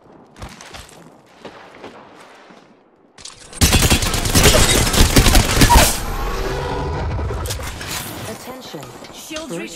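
Gunfire erupts in a battle royale video game, opening with quieter game sounds and then a dense burst of rapid shots that blends into loud continuous action, with a voice speaking over parts of it.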